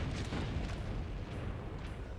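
Rockets explode in a Doom map as an archvile is killed, a dense, rumbling blast of overlapping booms that fills the whole short stretch without a break.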